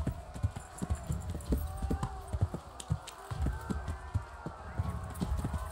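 A horse clip-clops along in the medieval video game Kingdom Come: Deliverance, with steady close hoofbeats and an occasional whinny, while voices talk over the walking.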